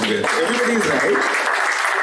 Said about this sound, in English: can we give a big applause to Mr.